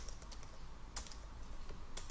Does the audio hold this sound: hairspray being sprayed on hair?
no